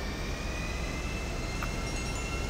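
A steady, droning airplane engine roars at a constant level throughout, with no voices and no break in the wash of engine noise.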